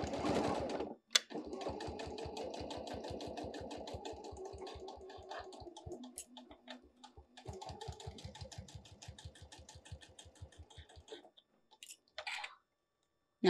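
A sewing machine stitches fabric all the way around a bunny ear basket, its needle thumping in steady rapid runs with brief pauses between passes, close and fairly loud with no talking.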